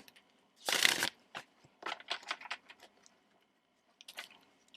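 Tarot cards shuffled by hand in short, riffling bursts: one long loud shuffle, then a run of quicker crisp flicks and a final short flurry, close and with no talking.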